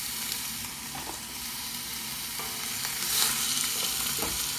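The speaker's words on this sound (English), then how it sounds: "Adding our meat" Ground beef sizzling in a hot oiled Dutch oven over medium-high heat, a steady crackling hiss with occasional spatula scrapes and stirs, close and moderately quiet, no talking.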